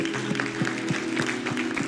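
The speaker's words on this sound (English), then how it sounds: "Give God a good hand clap right there." Congregation clapping during a Sunday church service, rhythmic claps at a steady beat under a sustained organ or keyboard chord, moderately distant.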